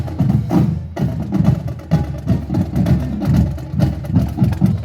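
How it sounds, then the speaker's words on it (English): Several old military vehicles roll past at a parade, engines idling and rumbling with a rich, uneven low throb that swells and fades continuously, loud and close. "Here's some old military vehicles that smelled like they were running rich."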